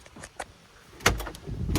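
Sliding or side door of a 2012 Opel Vivaro passenger van with a 2.0 engine being shut, a few short clunks and latch clicks close by, with no talking.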